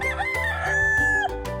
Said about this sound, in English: And they've got chickens and roosters running around.